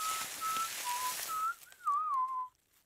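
Someone whistles a short tune, a few held notes followed by a wavering slide, close and clear, ending in silence.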